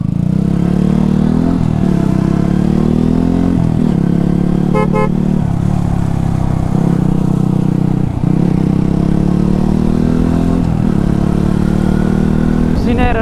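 Motorcycles at a bikers' meet-up and iftar in Rangpur rumble loudly and continuously, engines revving up and down close to the microphone while someone talks over the noise.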